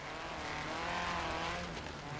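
Racing game car from Forza Horizon 3, engine roaring loud and close with tire squeal and skidding noise, continuous with no talking.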